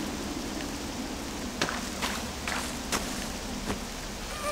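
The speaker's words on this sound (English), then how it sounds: "Smoke stopped, but the rain doesn't look like it'll let up anytime soon." Constant rainfall washes through a scene in Octopath Traveler II, a soft steady hiss marked by a few isolated louder drops or taps at irregular intervals.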